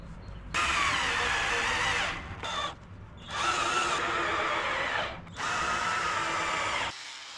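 A power drill drives screws into a driftwood workbench, three long loud whirring runs separated by short pauses, with no talk.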